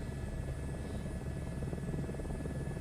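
In Microsoft Flight Simulator 2024, a simulated helicopter on a Grand Canyon tour route drones with a steady, continuous rotor and engine thrum that holds an even loudness throughout, with no voices.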